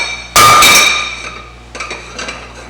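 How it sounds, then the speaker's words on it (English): A stainless steel cooking pot clanks once sharply and loudly near the microphone, ringing briefly, followed by a few softer metallic knocks in a kitchen. "My stainless steel pot,"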